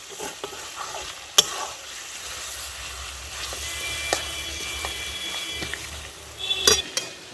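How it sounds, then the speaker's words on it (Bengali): Mutton pieces being stirred in a hot pan for an Odia mutton curry, with a steady close sizzle and repeated scraping and clanking strokes of a spoon against the metal, plus a few sharp knocks. "তো মাংসটা এইভাবে নাড়াতে হবে, নাড়িয়ে যেতে হবে যাতে নিচে না লেগে যায়"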